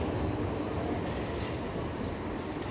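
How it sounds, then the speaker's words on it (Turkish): Tram passing along tracks in a green Warsaw street near a square, a steady broad rumble of rail traffic holding evenly for the whole stretch with no talking. "Aşağıda tramvaylarımız gider."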